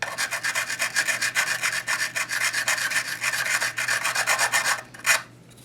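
A small sanding block rubs back and forth on a guitar fret of a Chillcat Les Paul-style guitar in quick, steady rasping strokes, close and loud, ending with a brief pause and one final scrape.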